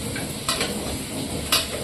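Finely chopped garlic fries lightly in a pan as the base for white sauce pasta, giving a steady close sizzle broken by two brief stirring scrapes, with no voices.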